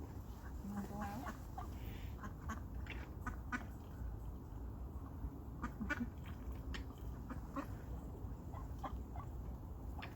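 Ducks quack repeatedly in an irregular chatter alongside clucking fowl, moderately close over steady outdoor background noise, with soft talk mixed in.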